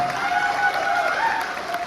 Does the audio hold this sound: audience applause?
yes